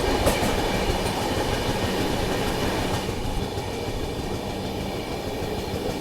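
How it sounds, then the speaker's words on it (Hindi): A special passenger train runs on the rails near Ballarshah in Maharashtra, a steady loud rumble with clickety-clack of wheels over track joints continuing throughout. "अब ये कोई तो स्पेशल ट्रेन है"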